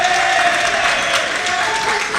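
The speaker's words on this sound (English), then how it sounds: "Large amount of cheering" Crowd at a boys high school basketball game, Creed vs Old Saybrook, cheering and clapping in a continuous loud roar of dense noise throughout.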